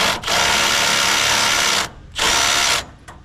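A Milwaukee M18 Fuel cordless drill whirs loudly at close range in two long runs, driving a NighCo jack to lift a dump trailer, with brief stops between them and a short final burst.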